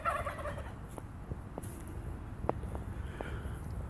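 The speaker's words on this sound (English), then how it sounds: "I don't think I've ever taken the time to show you guys our turkeys" Turkeys gobble in short, scattered bursts outdoors, with a few sharp calls standing out over a steady background hiss.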